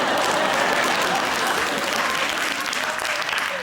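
A television studio audience claps loudly and continuously, a dense wash of applause that fills the whole moment with no break.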